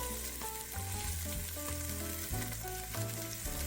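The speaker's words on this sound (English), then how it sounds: "And we're going to stir that up a little bit, get that moving in the right direction." Half an onion with garlic sizzling as it is stirred in a pan for a four-bean soup, a continuous soft frying hiss that sits under tonal background music.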